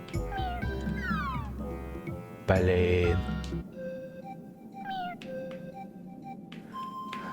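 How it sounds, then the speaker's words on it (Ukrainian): A cat meows repeatedly near the microphone, with several drawn-out, rising calls in quick succession and fainter mews later, while a person speaks briefly between them. "Що ти мені нявкаєш на ухо?"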